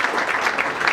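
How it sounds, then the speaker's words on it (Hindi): Applause from an audience at an award presentation during a music tribute event is dense and continuous through the whole moment. "आप सभी की तालियां बजती रहनी चाहिए जब ये अवार्ड प्रदान किया जा रहा है।"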